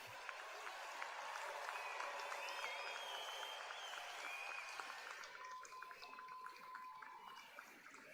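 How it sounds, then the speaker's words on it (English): Commencement crowd of parents, siblings and friends at the WCC 2026 ceremony applauds the graduates, a faint, distant wash of sustained clapping with some cheers and murmured voices mixed through it. "can we start with a round of applause for our graduates?"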